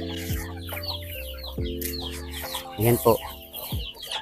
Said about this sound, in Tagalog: yung alaga naming manok na dito pa rin sa aming bakuran, naglalakad yung mga manok na nabubuhay